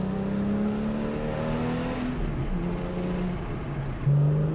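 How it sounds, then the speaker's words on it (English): A Porsche 911 Carrera's naturally aspirated six-cylinder engine with manual transmission revs steadily through rising gears, its smooth note droning close and loud, climbing again sharply near the end. "this naturally aspirated 6-cylinder manual transmission pairing. In the higher revs, it sounds oh so sweet."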